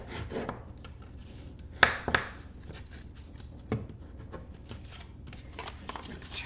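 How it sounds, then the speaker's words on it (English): Seams of a paper gift box for a mug being burnished with a tool: quiet, close rubbing and scraping strokes over soft background noise, with a few sharper scrapes standing out. "I'm going to burnish my seams."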